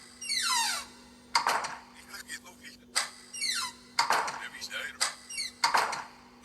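Room door in a haunted-house story closing in repeated creaky bursts: a rising squeal followed by a thud and rattling knock, recurring three times over a low steady hum.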